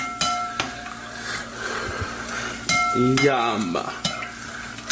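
A spoon stirs a sweet and sour sauce in a pan for a pepper steak dish, with steady scraping and soft sizzling throughout and a few metallic clinks near the start and middle; a brief spoken word comes partway through.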